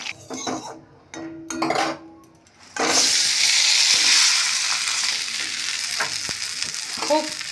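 Gobindobhog rice hitting hot ghee in a wok, opening with a few metal clinks and scrapes before a loud, steady frying sizzle takes over, with occasional stirring knocks.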